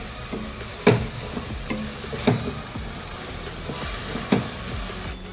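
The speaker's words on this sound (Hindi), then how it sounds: "वेजिटेबल्स हमारे सॉटे हो गए हैं" Vegetables are sautéed in a pan for a lasagna, a constant sizzle broken by three distinct spatula knocks and scrapes at roughly even intervals, close and clear.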